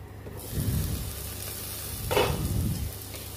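Dhekia fern greens fry in a wok with a soft continuous sizzle, broken by two bursts of scraping as the spatula stirs them, close and fairly quiet with no voices.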